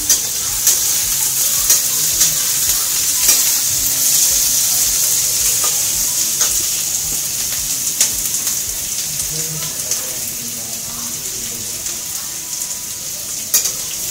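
Potato sandwich filling sizzles and fries in a pan while being stirred, a steady loud hiss with scraping strokes of the spoon throughout, and no talking over it.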